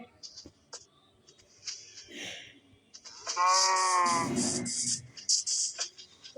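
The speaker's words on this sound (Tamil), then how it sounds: "வாங்க மாடுகளா, உங்களை நான் பிடிச்சிட்டு போறேன்" Cows in the Minecraft video game give one long, loud low moo, with a shorter grunt before it, between scattered clicks and soft thuds; someone talks briefly at the start.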